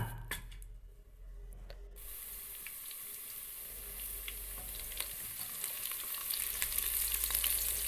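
Onions frying in a handi with red chilies tossed in, a steady broadband sizzle with light stirring clatter, starting after a brief quiet gap and gradually growing louder, no voices.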